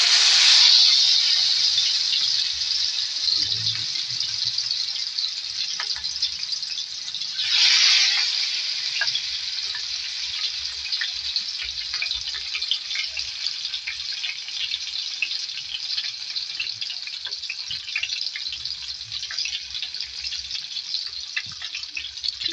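Fish sizzling in hot oil in a home kitchen pan, a steady bright hiss that flares louder at the start and again around the eighth second, then settles into continuous frying without talk.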